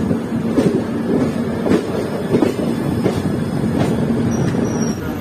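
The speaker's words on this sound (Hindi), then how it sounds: "तो दोस्तों हमारी ट्रेन जो है कानपुर सेंट्रल पहुंच रही है" Netaji Express (Howrah–Kalka) pulls into Kanpur Central, heard from on board as a steady loud rumble of wheels and carriage with periodic rail clunks, no voices.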